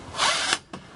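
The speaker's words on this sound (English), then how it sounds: "if you hear one of those drop like that." A sudden metallic clatter and scrape as a loose camper stabilizer bar drops, followed a moment later by a second, shorter knock.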